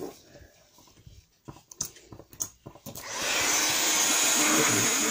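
A hair dryer dries a freshly painted art journal page. A few light clicks and handling sounds come first, then the dryer switches on at about three seconds into a loud, steady, close-up blowing roar.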